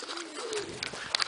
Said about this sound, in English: most of the pigeons in here are trap trained to this loft